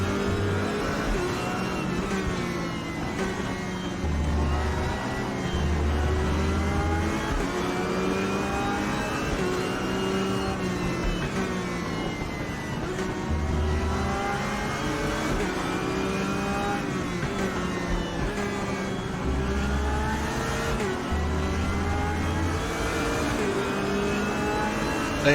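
A race car engine in the Raceroom racing game revs and shifts repeatedly, rising and falling whines with pops and bangs, continuous and prominent throughout with no talking.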